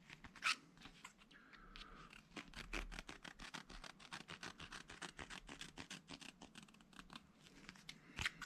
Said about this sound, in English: leaving the backing material on, and I'll cut around it